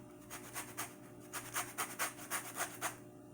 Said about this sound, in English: I'm making sure that I just get the zest